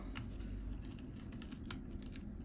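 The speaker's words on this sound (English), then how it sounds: "So we have to peel this one off" Adhesive cover being peeled off a Steam Deck handheld during a repair, a faint, quiet tearing crackle with a few small sharp ticks over about two seconds.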